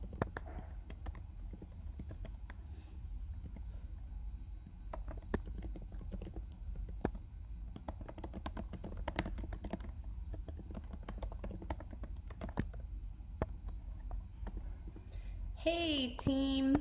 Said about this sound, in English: Just typing up the workout.